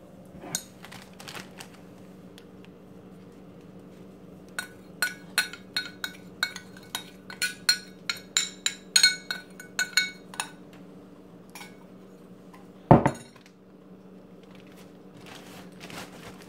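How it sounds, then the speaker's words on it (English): Utensil scraping food out of a dish in a home kitchen, a run of quick clinking scrapes and taps, close and clear, ending in one louder knock against the dish; no talking. "You know I have to scrape all this goodness out."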